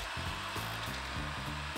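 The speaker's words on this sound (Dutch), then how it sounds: "Boor een gat van 6 mm door de muur heen." A power drill bores a 6 mm hole through a house wall for fitting an extra outdoor tap. The motor gives a steady, even whine that runs unbroken and stands alone, with no voices.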